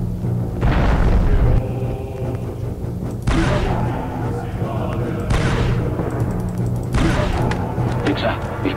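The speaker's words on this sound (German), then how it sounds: "Granate vor." Grenade explosions in the video game Star Wars Republic Commando, several loud booming blasts with rumbling tails recurring every couple of seconds, with game noise and a voice talking between them.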